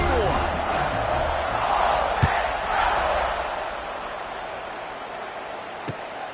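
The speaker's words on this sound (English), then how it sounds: "this crowd is buzzing after that last score" A college football stadium crowd in a video game keeps up a steady, loud roaring buzz after a score, with a few sharp thumps rising briefly above the wash of noise.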